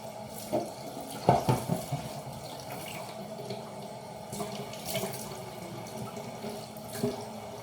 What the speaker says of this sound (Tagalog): Tumutulo yung tubig.